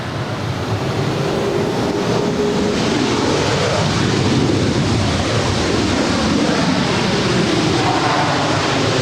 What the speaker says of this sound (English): This is Delta 2101 coming in from Minneapolis.